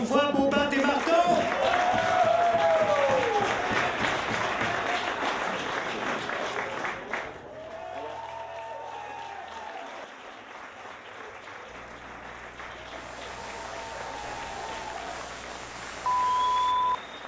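Audience applause at the close of a French-language variety show for the duo Bobat et Marteau, loud and dense at first, then thinning and fading out, followed by quieter background sound and a short electronic beep near the end.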